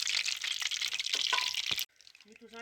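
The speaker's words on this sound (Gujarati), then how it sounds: "મરચાં તલાઈ ગયા છે કાઢ લેશું બારા" Green chilies sizzle in hot oil over an outdoor fire at a farm at night, a steady loud frying hiss that cuts off abruptly, followed by faint clinks and a low voice.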